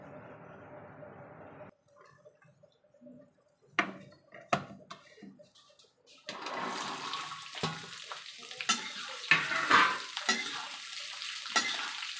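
Mixed pickle cooking in a pan: near silence at first, then scattered clinks and knocks, then a steady frying hiss with stirring clatter and sharp utensil taps near the end, without talking.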